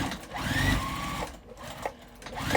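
A sewing machine stitches a seam on a quilted jacket made from cotton fat quarters, running in short close-up bursts of rapid whirring with brief stops between them.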